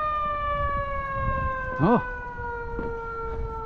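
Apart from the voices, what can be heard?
ambulance siren turning on in the street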